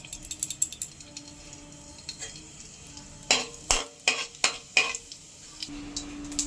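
Whole dried red chillies, cumin seeds, cloves, cinnamon, a cardamom pod and raisins crackle in hot oil, with a soft sizzle and a run of sharp pops and spits clustered in the middle of the clip.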